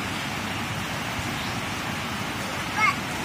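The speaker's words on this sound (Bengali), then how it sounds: "বাইরে কি হচ্ছে? বৃষ্টি।" Rain falls outside as a steady, even hiss of drops spread across the whole stretch, with a brief brighter patter near the end.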